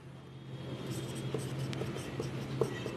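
Pen writing on paper while working a geometry problem on lines and angles, a soft, faint scratching with a few light taps over low room hum, no voices.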